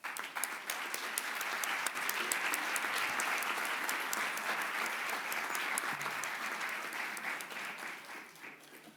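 Loud, sustained applause from a large audience, steady dense clapping for several seconds before gradually tapering off at the end.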